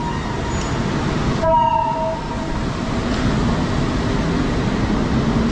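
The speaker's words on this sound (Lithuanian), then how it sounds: "Na štai stovi traukinys į Mockavą." Low rumbling ambience of a train to Moscow at Kraków main station as its locomotive is uncoupled, with a brief tonal horn or whistle sounding partway through, then steady mechanical noise.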